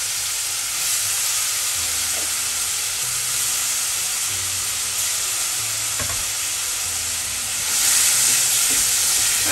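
Onion paste and chopped onion fry in a hot pan with a steady, broad sizzle, interrupted by a few stirring scrapes and a louder burst of sizzling toward the end; no voices.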